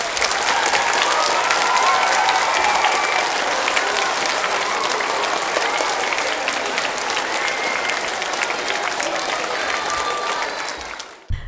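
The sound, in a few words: applause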